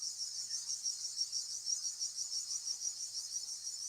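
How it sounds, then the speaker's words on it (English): Cicadas chirping outdoors in a continuous, pulsing high buzz with a steady rapid rhythm, fairly close and alone without talk. "Oh, cicadas. Cicadas. Cicadas. Oh, the cicadas."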